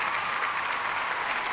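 An audience at a Tamil film success event for the movie Parking applauds, a dense and steady burst of clapping from many hands that fills the whole moment.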